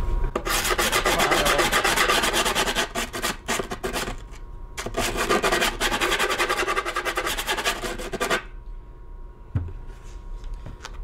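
Steady rasping rubs of a blade trimming the corners of skateboard grip tape, long continuous scraping strokes close up, with a brief pause midway and a short tap near the end.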